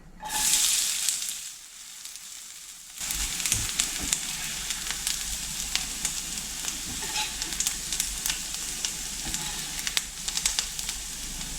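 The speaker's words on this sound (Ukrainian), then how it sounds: "Додаю ще столову ложку олії і обсмажую цибульку." Steady sizzle of onion frying in oil, with frequent small crackles and pops throughout, briefly quieter near the start.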